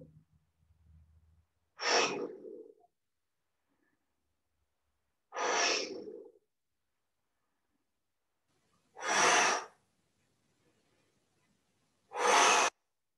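Four deep, audible breaths during a qigong breathing exercise, each lasting about a second, spaced evenly apart with near silence in between.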